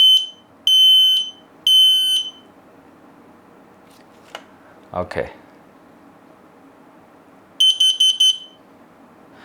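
An X-Sense hardwired smoke detector's test button sets off loud shrill alarm beeps, three at the start and a quicker burst near the end, with handling noise and a brief spoken word in the quiet gap between.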